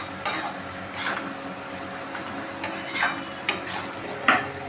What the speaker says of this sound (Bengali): এবার এটাকে আমরা একটু নাড়িয়ে নেবো